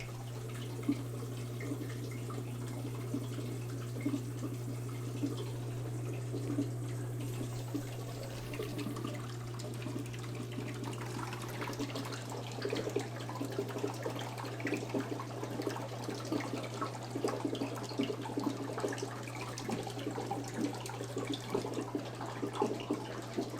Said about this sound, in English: now that the bubbling, gurgling vortex of sounds have ended